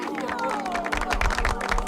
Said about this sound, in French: applaudissons bien fort Lightning Boy!